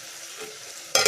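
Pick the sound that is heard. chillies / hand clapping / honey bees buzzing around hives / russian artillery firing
chillies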